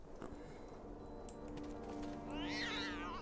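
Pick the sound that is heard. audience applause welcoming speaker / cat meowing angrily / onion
cat meowing angrily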